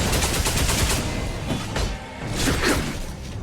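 A gunshot in Honkai Star Rail, heard as a loud, close burst of rapid cracking shots with a whooshing swell, sustained with a brief dip partway through before rising again.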